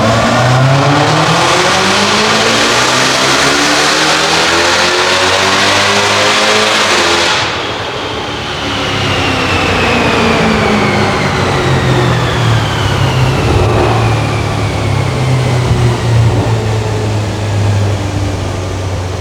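A Jaguar F-Type fitted with a Harrop TVS2300 supercharger revs hard on a dyno, the loud engine climbing steadily in pitch, cutting off briefly, then building again with a rising supercharger whine, all close and with no voices.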